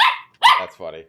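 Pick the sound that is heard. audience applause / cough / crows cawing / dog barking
dog barking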